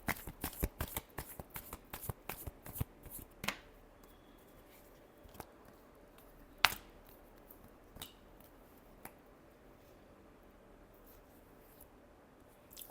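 Tarot cards being shuffled close up: quick bursts of riffling and snapping in the first few seconds, then sparse soft taps and flicks in a quiet room.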